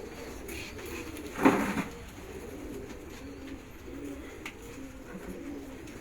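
Prized pigeons kept on a rooftop coo softly in the background, with one louder burst of calling near the start, otherwise a low steady murmur.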